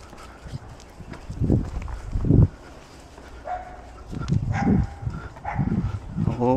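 Big dogs bark in a few short, loud bursts during an outdoor dog walk and training session, mixed with people talking nearby.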